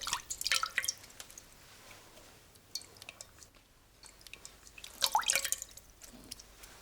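Water dripping in a quiet medieval fantasy inn setting, with a few clustered wet drips and splashes near the start and again near the end, close and soft against a hushed background.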